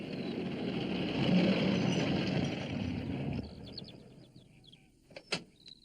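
Sam Waldron's mobile shop van pulling into a farmyard, an engine rumble that swells and then cuts off, followed by a quieter stretch with bird chirps and a short mechanical clunk near the end.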